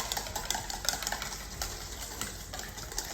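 An egg being whisked by hand in a bowl for a homemade sugar-free lunchbox treat, with a steady run of quick light clicks and soft swishes throughout, fairly close and moderately quiet.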